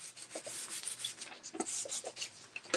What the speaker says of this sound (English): I'm just kind of burnishing it, getting it down into like the wood grain.